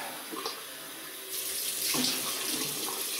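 Tap water runs into a sink to rinse a shaving brush, a quiet trickle at first that swells into a steady, fuller splashing stream, close by with no talk.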